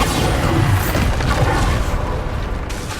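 A heavy, rumbling Bombarda spell explosion from Hogwarts Legacy, loud and sustained with a booming low body that slowly fades.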